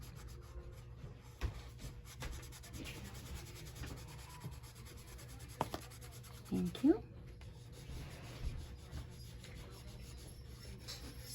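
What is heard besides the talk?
pencil being sharpened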